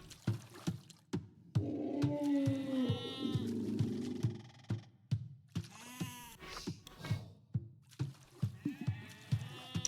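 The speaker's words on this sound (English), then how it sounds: "Emma using the sheep to scout." Sheep bleating in a strategy video game, several quavering bleats over a busy backdrop of clicks and thuds from the game, with no talk.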